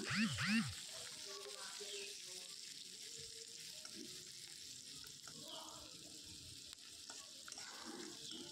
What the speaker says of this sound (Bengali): তো পেঁয়াজগুলো একটু নেড়েচেড়ে গোল্ডেন ব্রাউন করে ভেজে নিচ্ছি।